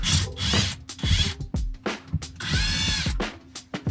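Screws are worked loose from the interior trim of a Honda Civic during a deep clean, giving close, loud bursts of ratcheting clicks and scraping rubs, with short pauses and one longer grinding stretch, and no talk.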